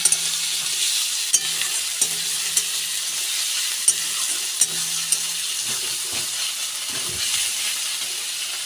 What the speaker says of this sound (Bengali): পেঁয়াজ আর আদা রসুন বাটাটা দিয়ে দিয়েছে ভালো করে ভেজে নেব